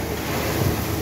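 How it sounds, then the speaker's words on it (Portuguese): A strong wind from a sudden storm blows dust across an open work area, heard as dense, steady broadband roaring and buffeting close to the microphone. "Essa poeira, esse vento aí"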